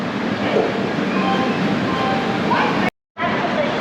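A Madurai–Bikaner train pulls out of a station platform with a steady, heavy rolling rumble and faint squeals under light crowd murmur, briefly cut to silence near the end.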